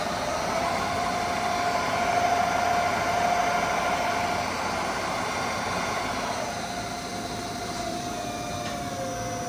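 A lithium-powered race vehicle runs steadily on a dynamometer, producing a smooth electric whine with a high tone that shifts in pitch, sustained and moderately loud with no talking.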